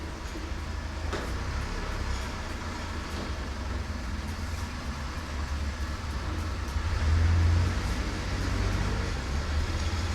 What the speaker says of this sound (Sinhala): පාරයි ඉන්න වාහන සද්ද දෙනවා වැඩි ගණන් ගන්න එපා